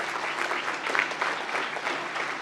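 Dense, even audience applause at a university graduation presentation ceremony, honoring a group of graduates just named, many hands clapping together without letup.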